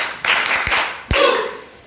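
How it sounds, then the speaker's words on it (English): A classroom group performs a champagne clap, a rhythmic clapping routine for pupils' work in a creative arts and design lesson: a few separate, fairly close clap bursts with short sharp pops between them. "Let's give them the champagne clap"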